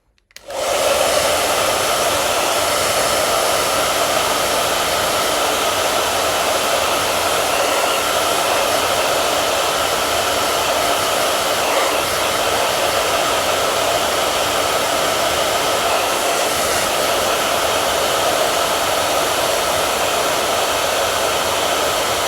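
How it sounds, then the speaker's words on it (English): A hair dryer switches on and blows with a steady, loud whoosh for the whole stretch, close by and uninterrupted. "I'm going to come in with the hairdryer"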